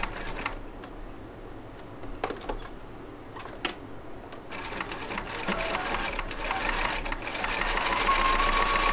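A sewing machine stitches a section of a stained glass quilt, with short bursts of needle clatter at first, then a steadier, louder run of machine noise toward the end.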